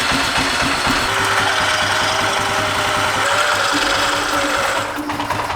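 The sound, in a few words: ATV electric winch motor pulling the winch cable in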